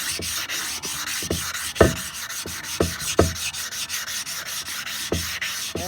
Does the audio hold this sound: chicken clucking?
no